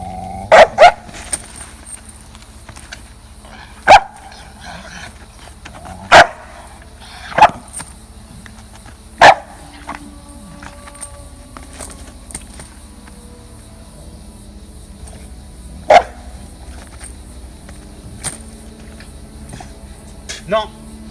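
A fearful female Malinois gives sharp, isolated barks at irregular intervals, roughly seven loud single barks spread over a quiet background with faint low growling and some human voices in between.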